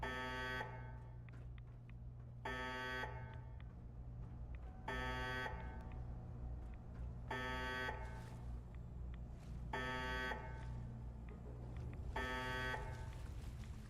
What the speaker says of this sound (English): Or do I now just have to listen to that beeping sound the whole time?